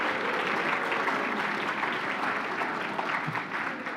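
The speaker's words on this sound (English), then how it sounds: "Wouldn't you give them a round of applause to that champion?" Audience applause at a county hall of fame gala, a full steady round of clapping from a large crowd, continuous and fairly loud throughout.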